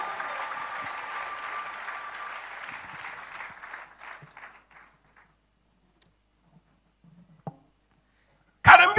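A church congregation breaks into loud applause that fades away over several seconds, followed by near-silence with a few faint ticks, then a sudden loud burst of clapping at the very end.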